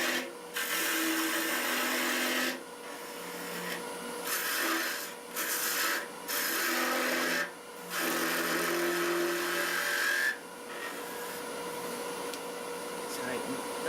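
A wooden spoon blank spins on a lathe while a turning tool takes small roughing cuts, giving a steady close hiss and scrape broken by short pauses between passes, with occasional talk over it.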